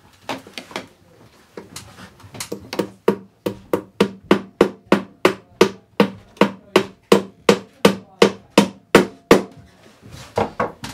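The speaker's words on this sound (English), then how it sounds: "So a lightweight hammer and a lightweight swing is all you need." A lightweight hammer drives staples to secure electrical wire while a new outlet is added, giving a steady series of about twenty-five sharp, evenly spaced taps, close and loud, with no talking.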